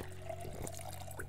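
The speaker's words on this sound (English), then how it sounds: "Fill empty bottle" Water trickling and pouring steadily as empty bottles are filled in the Project Zomboid survival game, a short continuous liquid stream with a low hum underneath and no talking.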